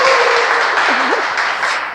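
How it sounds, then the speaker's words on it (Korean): Applause from a small audience in a large auditorium, a dense, steady wash of clapping filling the full stretch, a brief voice sliding through the middle. "박수 한번 해주시기 바랍니다"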